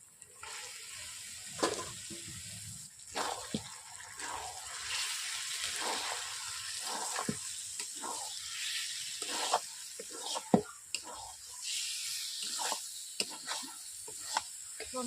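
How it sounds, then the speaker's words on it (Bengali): Chicken is being cooked down in spiced masala that has released its oil, a faint wet sizzle with irregular stirring and scraping sounds, quiet and close. "চিকেন দেওয়ার পর আমি এইভাবে চিকেনটাকে কষিয়ে নেব।"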